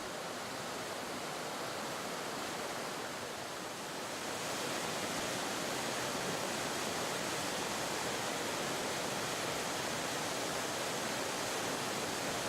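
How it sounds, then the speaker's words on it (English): A small 6-meter waterfall at Emerald Pool in Dominica pours steadily, a dense continuous rushing hiss that swells slightly louder partway through, with no voices. "Emerald Pool is a small waterfall, 6 meters high."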